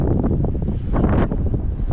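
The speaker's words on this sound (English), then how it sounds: "it's really, really windy, which you can probably hear" Strong wind at a dam near Las Vegas buffets the microphone in a loud, continuous rumbling roar with gusty surges throughout.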